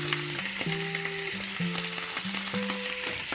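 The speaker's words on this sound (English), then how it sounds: "Let's see how the steak's doing. Oh, she's smoking." A steak sears in a hot, smoking pan, giving a loud, steady sizzle with a wavering tonal hum stepping up and down underneath.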